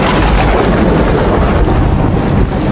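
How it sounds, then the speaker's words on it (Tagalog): Steady heavy rain pours loudly and close for the whole stretch, with deep rolling thunder rumbling underneath throughout and no voices. "My God, it's raining!"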